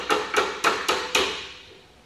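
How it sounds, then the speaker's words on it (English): Five sharp metallic taps on a pin during a Kubota B5100 tractor rebuild, struck close by at an even, slightly quickening pace, each ringing briefly before fading, with no talking. "I'm gonna put some pressure with my thumb on the pin and give it a tap"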